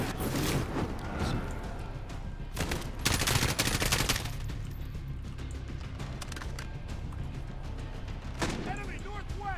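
Gunfire around a machine-gun nest in a Call of Duty campaign battle, rapid bursts of automatic shots and scattered cracks, loud and close, with shouting voices mixed throughout.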